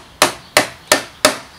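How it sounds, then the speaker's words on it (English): Four sharp metallic knocks from a hammer driving a flathead screwdriver against a Pentair Whisperflo pool pump part, close and loud, evenly spaced about a third of a second apart, with no speech. "take your hammer and a flathead screwdriver. You want to knock the back end ball off"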